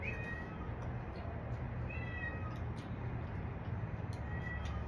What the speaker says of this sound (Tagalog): Ay, pusa.